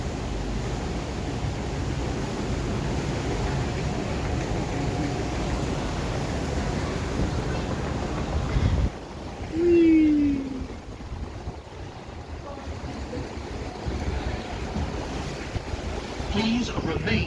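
Congo River Rapids boat ride at Alton Towers, with steady rushing water and wind noise throughout and a brief low rumble partway through, heard from aboard the raft.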